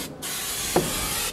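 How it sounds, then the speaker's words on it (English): A short, steady hiss of pressure-sensitive adhesive sprayed from a can onto the back of a speaker enclosure, close by, with a faint clunk partway through. "I'll take a pressure-sensitive adhesive, spray the back of the enclosure"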